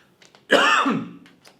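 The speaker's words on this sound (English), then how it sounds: "Just coughing" A single harsh cough or throat clear, close and loud, lasting about half a second, with quiet surroundings before and after.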